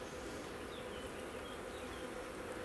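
Steady, continuous buzzing of honeybees at a beehive while foragers bring in nectar, a dense droning swarm holding constant and fairly close with no talking.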